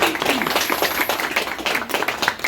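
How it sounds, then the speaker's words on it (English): Clapping from an audience at a charity launch day for a classic and vintage club in Killarney, a dense patter of many hands that holds steady for a couple of seconds, with faint voices mixed in. "So will you give them a round of applause for that?"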